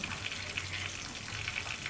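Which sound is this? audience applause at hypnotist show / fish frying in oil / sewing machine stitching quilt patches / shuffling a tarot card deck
fish frying in oil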